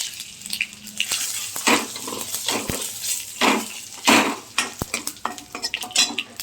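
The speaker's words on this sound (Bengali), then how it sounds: "এবারে ডালটা আমি ফোড়ন দেবো।" Dried red chillies and mustard seeds crackle and sizzle as they hit hot oil for a Bengali dal tempering, with scattered sharp pops and clinks of a metal spoon against the pan, close and fairly quiet.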